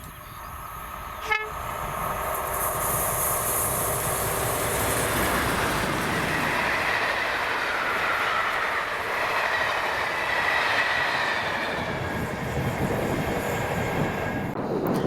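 Class 37 locomotives 37688, in rail freight construction livery, and 37667 haul a train past in Scotland, a steady rumble of wheels and engines with a brief horn blast near the start.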